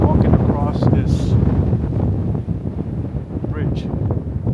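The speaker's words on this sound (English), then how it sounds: "It's windy." Strong, gusty wind buffets the microphone on a bridge in the mountains near Interlaken, a dense roar that holds throughout, with a person speaking over it.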